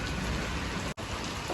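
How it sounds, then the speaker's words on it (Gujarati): Heavy rain pours down outdoors during a rainy-day birthday gathering, making a steady, loud, dense hiss that is interrupted by one brief dropout midway. No voices are heard. "બહુ વરસાદ પડે છે"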